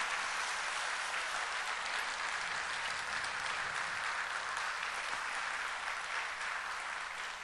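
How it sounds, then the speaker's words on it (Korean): A church congregation claps in sustained, even applause to thank the pastor after his sermon and prayer, with dense hand clapping that holds steady throughout without cheering or speech. "우리 박수로 한번 감사하게 하겠습니다"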